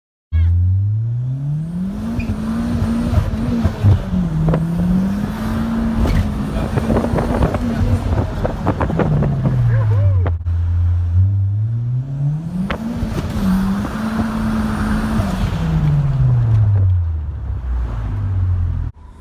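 A 450-plus-horsepower Mitsubishi Eclipse with a full downpipe exhaust and blow-off valve drives past, its loud engine note rising and falling through two long acceleration sweeps, close and steady throughout.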